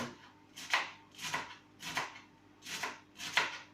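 Spinach being chopped with a knife on a board, five steady, evenly spaced cuts close by with no talking.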